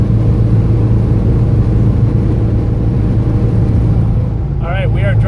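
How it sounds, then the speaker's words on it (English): A VW Bug driving on the road between Denver and Tucson in cold weather, its engine droning steadily with a low hum and road roar from inside the car; a voice starts speaking at the very end. "All right, we are driving home"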